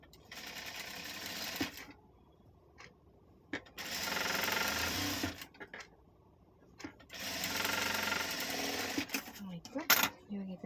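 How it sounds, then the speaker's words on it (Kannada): A sewing machine stitches a cloth pouch sewn from old fabric scraps, running in two long whirring bursts with short pauses and soft handling noises between them, close and moderately loud with no talking. "ಇದನ್ನು ಈ ರೀತಿ ಇಟ್ಕೊಂಡು ಸ್ಟಿಚ್ ಮಾಡ್ಕೊಳ್ಳಿ."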